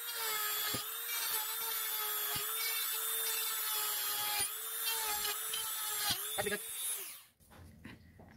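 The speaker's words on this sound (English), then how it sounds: "I'm going to put a couple holes in the box to give us a little bit better sound." A Dremel rotary tool bit drills holes in a plastic box for a custom car door chime, a loud, close, high-pitched steady whine with brief catches and bumps, cutting off near the end.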